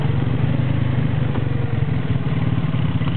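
A 110cc quad bike engine runs close by, a steady rapid putter with a rough, clattering idle that holds level throughout.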